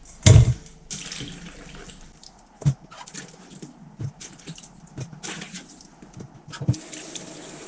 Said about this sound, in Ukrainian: Тепер їх потрібно промити у холодній воді.